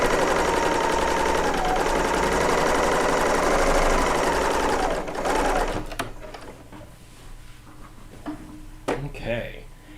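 A serger sews quilt sections together with a loud, steady, close mechanical run for several seconds, then stops as a person begins talking.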